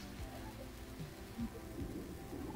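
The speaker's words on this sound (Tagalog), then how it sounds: "Saglit mag-headset ko kasi malakas yung ulan, hindi ko marinig" Heavy rain pours down in a dense, continuous roar with low rumbling underneath, steady throughout and close by, with no speech.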